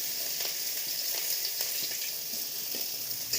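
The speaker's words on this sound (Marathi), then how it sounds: "कांदा चांगला असा परतून घ्यायचा।" Onion sizzling as it fries in very hot oil with a little cumin in a wok, a steady, close, broadband crackle with faint stirring pops throughout, no talking.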